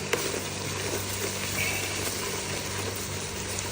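Flour being stirred into spices frying in a pot for creamy mushroom soup, a steady close sizzle with faint stirring scrapes, continuous and fairly loud.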